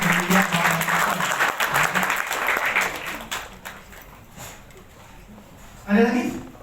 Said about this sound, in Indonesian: Tepuk tangan ini buat salah satu mentor saya nih teman-teman.